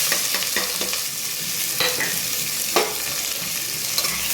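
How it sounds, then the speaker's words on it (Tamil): Onions and curry leaves fry in hot oil with fennel seeds for mutton fry, giving a continuous close sizzle broken by scraping stirs and a few sharp crackles, with no talking. "நல்லா வதக்குங்க வெங்காயம்"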